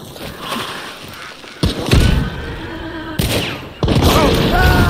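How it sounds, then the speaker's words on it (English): Gunfire bursts in the video game Hunt: Showdown, three loud, close volleys of shots with booming tails, separated by brief quieter gaps. "I got shot from both sides"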